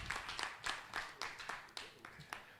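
Scattered applause from an audience at the launch of a Ghana professional boxing league, a series of short clapping bursts at moderate distance, rising and falling in waves.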